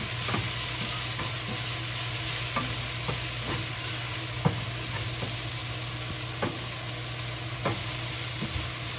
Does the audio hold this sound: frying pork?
yes